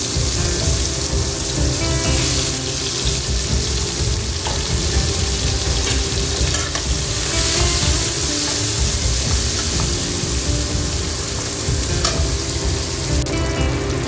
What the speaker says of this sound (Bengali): পেঁয়াজগুলো ভেজে নেওয়ার পর আমি এখানে টমেটো কুচিটা দিয়ে দেবো।